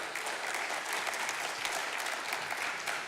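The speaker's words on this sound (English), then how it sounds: "Big round of applause for everybody that was up here today." Sustained round of applause from a studio audience at a morning live show, even and continuous, heard at a moderate distance without breaks.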